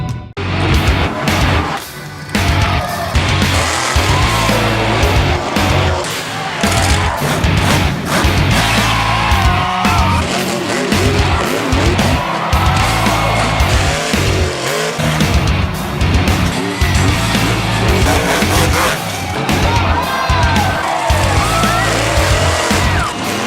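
Monster trucks racing at the 2019 General Tire Monster Truck Thunder Drags at the Bloomsburg Fairgrounds in Bloomsburg, Pennsylvania: loud, continuous roaring engines with revving surges and tire noise, close and unbroken, with no talk.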